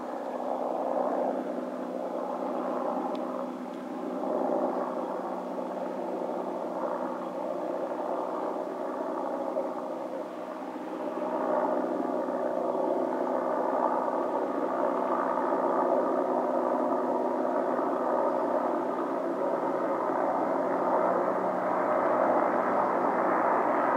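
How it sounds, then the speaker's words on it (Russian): A helicopter flies over Golubinaya Bay near Kerch, the Kerch Strait and lighthouse, its steady distant drone holding level for about twenty seconds above a coastal cliff with wind and no talk. "Вертолет летит."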